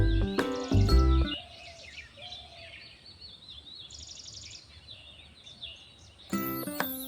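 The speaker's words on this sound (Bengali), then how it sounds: "আর এই যে একটু পাখির ডাক শোনায় আপনাদের।" Birds calling in a garden: faint, scattered chirps and short whistles at a distance over a quiet outdoor background, with louder knocking or rustling bursts near the start and end.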